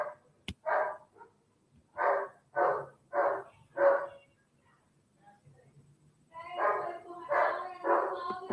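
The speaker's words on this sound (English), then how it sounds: "Apart from my cousin, he barks basically at everyone." A dog barks in a run of five sharp, evenly spaced barks, pauses, then lets out a denser cluster of loud barks and yelps near the end.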